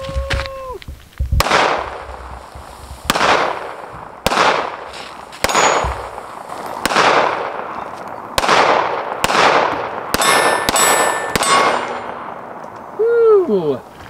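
Ruger LCP Max pistol firing outdoors, about nine sharp shots spaced a second or so apart, each loud crack followed by a ringing decay, with a faint voice at the end.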